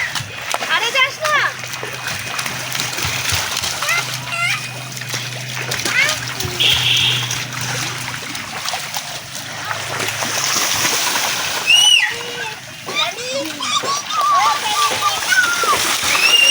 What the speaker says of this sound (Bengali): তাহলে এটাই এখন বাবিনের স্নানের জায়গা, তাই